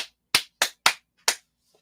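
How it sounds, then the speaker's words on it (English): Hands clap four times close up in a quiet room during a haunted-location investigation, sharp isolated cracks with uneven gaps between them and a faint tap at the end. "I'm going to clap my hands."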